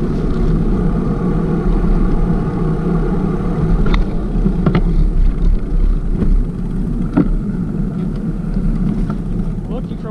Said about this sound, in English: And you can also hear the boats.